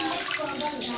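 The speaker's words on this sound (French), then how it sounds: "C'est comme ça qu'il faut laver les légumes." Green vegetables are washed by hand in a basin of water, producing a close, continuous splashing and sloshing over a short moment, with a faint voice in the background.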